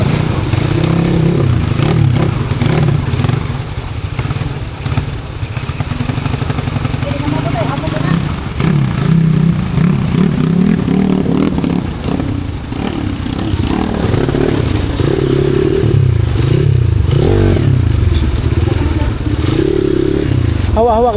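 A motorcycle engine chugs steadily for a long stretch as it crosses a river, amid splashing and clatter, with voices talking over it.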